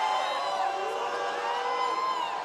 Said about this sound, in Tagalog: And the crowd's really getting into it.